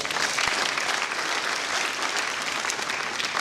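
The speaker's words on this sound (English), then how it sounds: "let's give a hearty clap" An audience at a Pwani University graduation ceremony claps steadily, a dense, even roar of many hands that holds at full strength for several seconds.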